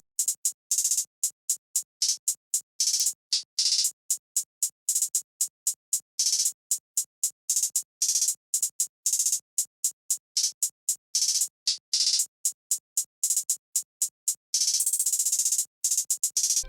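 Rapid crisp hi-hat ticks in a busy trap pattern, with fast stuttering rolls and a denser burst near the end, played alone with no drums underneath.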